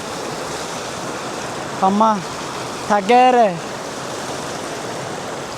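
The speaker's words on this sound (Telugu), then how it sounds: "water sound జివ్వు జివ్వమంటుంటే" A rushing hill stream near Roing, Arunachal Pradesh, gives a constant broadband roar of flowing water that fills the scene, while a voice briefly speaks over it midway.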